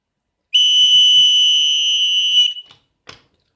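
A piercing, high-pitched electronic gas alarm buzzer, responding to flammable gas, sounds continuously for about two seconds, then cuts off, followed by a couple of faint clicks.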